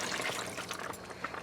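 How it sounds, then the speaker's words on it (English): Water is poured into a simmering pot of bean and grain soup, a continuous close splashing pour heard alone. "so I'm going to add another quart of water"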